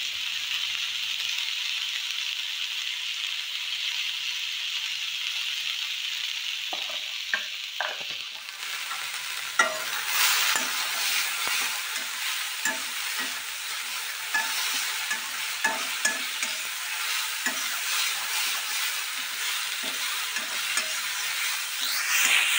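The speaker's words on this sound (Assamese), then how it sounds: "নিমখ হালধি দিয়াৰ পিছত আকৌ অকণমান টাইম ধুনীয়াকৈ ভাজি ল'লোঁ" Fish curry base of salt and turmeric fries steadily in a pan for an Assamese sour fish curry with dhekia fern, a constant close sizzle broken by scraping stirs and light utensil clatter.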